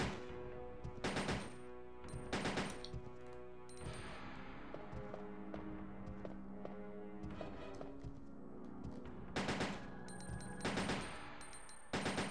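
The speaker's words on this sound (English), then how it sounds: "Keep moving, keep taking pot shots at him." Gunfire in the Resident Evil 2 video game comes in several short, spaced bursts of sharp shots at low level, with a faint game score and ambience continuing between them.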